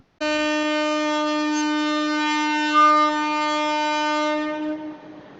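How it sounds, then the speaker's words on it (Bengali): A loud, sustained horn from a local mail train departing Khulna railway station blares steadily for several seconds, a rich chord of tones that cuts off abruptly at the end, with no talking. "খুলনা রেলওয়ে স্টেশনের দুই নম্বর প্ল্যাটফর্ম থেকে ডিপার্চার নিবে লোকাল রকেট মেল ট্রেন"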